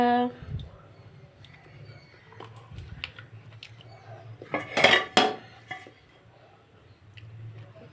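A cooking pot covered with its lid after making paneer masala, with scattered light clinks of metal utensils and a louder clatter of the lid settling in the middle, while a voice speaks at times.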